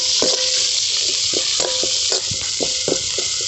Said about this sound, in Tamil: இஞ்சி பூண்டை போட்டு நல்லா பச்சை வாசனை போடுற அளவுக்கு நல்லா வணங்கிக்கலாம்.